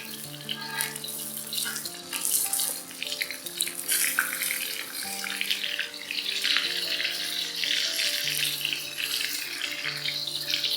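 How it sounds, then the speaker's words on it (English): Fish fries in oil in a pan with a steady broadband sizzle through the whole stretch, partly under continuous tonal music. "When you're able to release the fish easily from the pan, flip it over and brown the other side as well."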